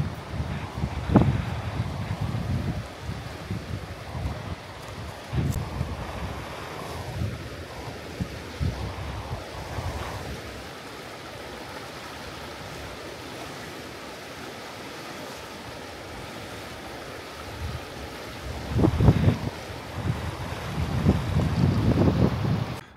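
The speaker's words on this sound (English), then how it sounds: "Water flows very fast." Fast-flowing river water near Mt Denali rushes as a steady, fairly loud broadband wash, with gusty surges near the start and louder swells toward the end.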